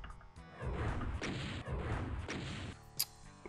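Gunfire against a revenant in Doom's Plutonia Experiment, a pair of heavy booming blasts in quick succession with rumbling tails, followed by a sharp crack near the end.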